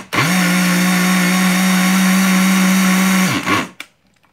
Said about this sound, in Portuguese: aqui a gente vai colocar para bater um pouquinho no liquidificador